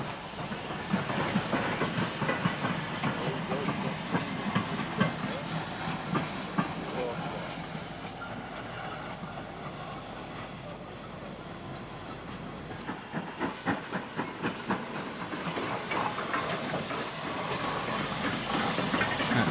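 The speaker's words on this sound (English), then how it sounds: "A4F waits for a path through Stoke near Etruria Junction" A train waits near Etruria Junction in Stoke-on-Trent on LMS lines, giving a steady broadband rumble and hiss with a stretch of rhythmic clicking clatter in the middle.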